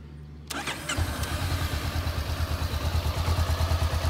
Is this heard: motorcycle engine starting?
yes